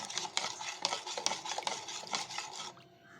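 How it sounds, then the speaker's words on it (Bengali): Spoon stirring half a teaspoon of coffee powder into about 500 ml of water, a steady run of close, rapid scraping and clinking strokes against the container that stops near the end. "এবার এটাকে ভালো করে গুলিয়ে নিলাম আমি"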